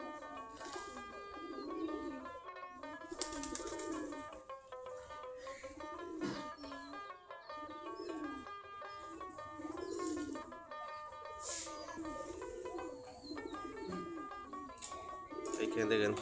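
Desi Giribaj pigeons coo in a loft on a cold winter morning before sunrise, soft repeated throaty coos rising and falling in a slow cycle, faint and close, alongside other bird chirps and a quiet background tone.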